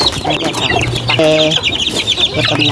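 Young chicks, some of them sick, peep continuously in a dense, close chorus of high, rapid cheeps, with a brief lower tonal call in the middle.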